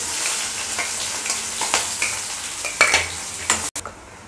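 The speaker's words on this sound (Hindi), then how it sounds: "उसमें हम साबुत जीरा डालेंगे हाफ स्पून, और एक बड़ा प्याज कटा हुआ डालेंगे" Whole cumin seeds and a chopped onion sizzle steadily in hot oil while being stirred, with scraping and clinks of a spoon against the pan close by.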